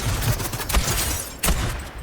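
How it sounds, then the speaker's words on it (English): Rapid bursts of gunfire ring out in Fortnite solo gameplay at Steamy Springs, a dense volley of close, loud shots with two sharper peaks and no talk. "I don't know how much shots I took at this person."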